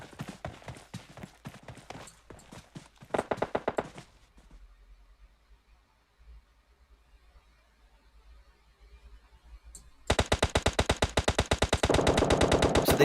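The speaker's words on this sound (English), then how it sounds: "looks like we're starting to get some gunfights out on the edges" Battle royale gunfire crackles in rapid automatic bursts, loud at the start, dropping to near silence midway, then returning as dense sustained firing to the end, with no talk.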